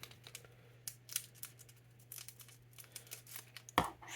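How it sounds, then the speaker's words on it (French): Children's scissors snipping and tearing through plastic packaging while a Pokémon card collection box is opened, a series of close, crinkly cuts and rustles ending in a sharper rip. "un jour je vais me couper en plus avec ces ciseaux pour enfants"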